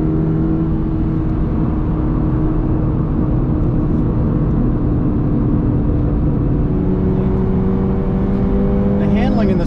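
A 2022 Toyota GR86 engine pulls on a race track in manual paddle-shift mode, in third gear: a continuous close drone that climbs in pitch toward the end as the revs rise.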